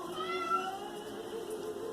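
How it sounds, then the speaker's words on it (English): An upset cat lets out a drawn-out, wavering meow, close and fairly clear against a quiet indoor background. "You'll have to excuse my cat."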